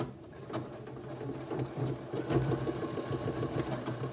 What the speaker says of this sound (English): In this case, I'm sewing from the top down.